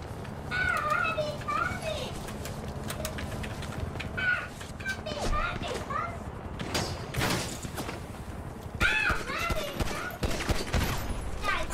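Gunfire in GTA RP on the NoPixel server: scattered shots and bursts crack through the scene, mixed with talk and other game noise, with dense clusters of shots near the middle and end.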